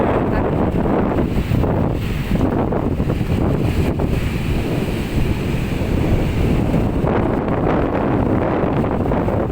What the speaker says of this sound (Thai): วิวนะคะลมพัดแรงมาก